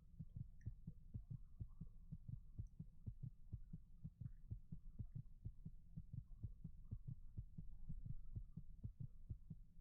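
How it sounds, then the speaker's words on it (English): Rhythmic low heartbeat thumps from the video game Fallout New Vegas, a steady throbbing pulse repeating evenly throughout, faint and muffled with a soft hum beneath and no talk. "It sounds like it auto-saved while they were attacking me or something, because I hear the heartbeat"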